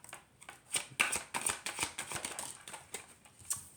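Stargazing Oracle cards are shuffled by hand in a quiet room, a run of crisp riffling bursts and soft slaps arriving in an uneven rhythm, close and fairly quiet.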